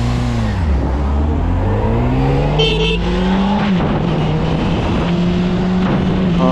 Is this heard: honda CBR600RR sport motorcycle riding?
yes